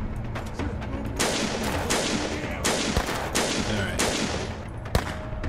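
Rapid volleys of Spaz shotgun fire in a first-person shooter game, loud repeated blasts in bursts with brief gaps between, and a sharp final shot near the end, with faint speech underneath.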